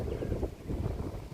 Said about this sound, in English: And it's windy now.